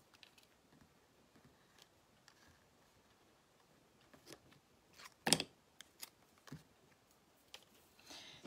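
Scissors snipping off white twine, a few faint ticking handling clicks building to one crisp, close snip and then scattered light clicks in an otherwise quiet room.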